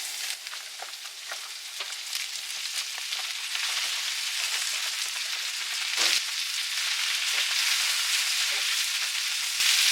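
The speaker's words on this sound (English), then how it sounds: "now we're gonna start putting our spinach" Spinach frying in a hot pan gives off a steady, soft sizzle that holds for the whole stretch, with light crackles and a few brief clatters from the pan, and no voices.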